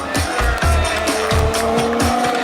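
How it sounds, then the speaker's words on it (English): Formula One race cars roar past at a racetrack, loud engine whine mixed with tire squeal and skidding, several quick passes in a row with no talk. "those roaring engines at the Formula One racetrack"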